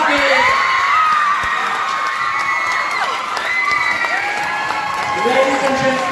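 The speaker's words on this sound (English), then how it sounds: "Please give a big round of applause" An audience at a Miss Supranational Namibia 2020 pageant cheers and applauds, a dense wash of clapping mixed with high shouts and whoops, steady and loud throughout.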